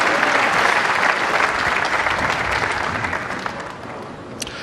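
A large crowd in Barnsley breaks into loud, dense applause after a strike at the Weber Cup bowling event, a sustained clapping roar that gradually tails off near the end.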